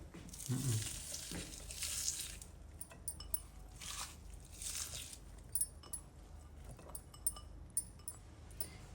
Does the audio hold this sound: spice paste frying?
yes